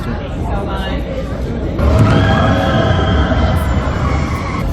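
A ride train departs close by at Walt Disney World in Orlando, rumbling past with a low steady roar and rising wheel whine while people talk over it.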